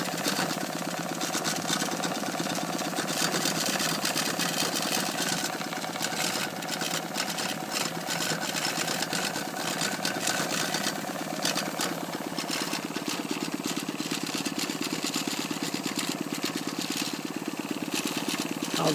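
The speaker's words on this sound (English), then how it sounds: "I don't know whether you'll be able to hear the pump, but it's not a knock, it's a slight chirping sound." Coal-fired Stuart No.9 steam engine running steadily, a continuous mechanical chugging with a faint chirping from its feed pump blended into the busy rhythmic clatter.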